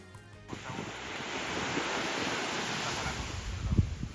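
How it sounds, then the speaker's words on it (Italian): Sea waves wash onto the shore near Cagliari, Sardinia, in a steady, close roar of surf. Wind buffets the microphone, and a brief burst of other sound comes just before the waves. "si sente il rumore delle onde, poi lì c'è il mare"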